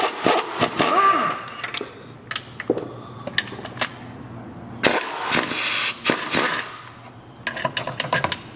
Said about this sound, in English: taking his impact wrench with a 16 millimeter on it, 60 millimeter socket on it